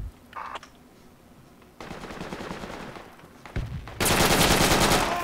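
Gunfire in the tactical shooter Project Reality, with scattered distant shots building into loud, close rapid bursts of automatic fire at the end.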